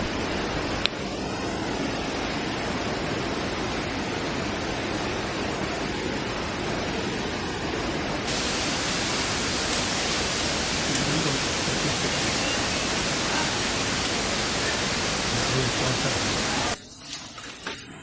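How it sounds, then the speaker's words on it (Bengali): Nohkalikai Falls in Cherrapunjee, Meghalaya, roars in a loud, steady rush of water that fills the whole scene, its tone brightening partway through before it abruptly drops away. "হালকা ঝর্ণার শব্দ"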